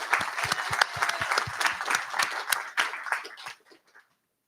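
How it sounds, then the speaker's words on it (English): Applause from a pub audience at a live politics event, a burst of steady clapping with some low thumps that carries on for about three and a half seconds, then trails off to silence. "How about a round of applause for Rising Tide?"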